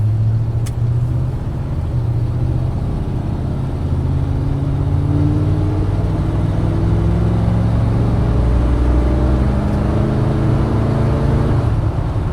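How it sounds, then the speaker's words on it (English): A 1969 GMC C10 pickup with a 350 engine and automatic transmission accelerates hard, its loud close engine note climbing steadily in pitch through a gear change over a continuous low roar. "we'll do a little heavier acceleration here"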